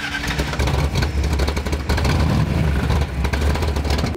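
Modified 1965 Ford Falcon engine revving, loud and close, with repeated throttle blips and a rough rumbling idle between them, cutting off at the end.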